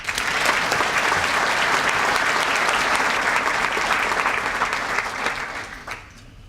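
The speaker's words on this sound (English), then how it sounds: "Let's give them a round of applause." Dense, steady applause from an audience honoring police award recipients at a St. Paul department awards ceremony, filling the space evenly for several seconds before thinning and fading out near the end.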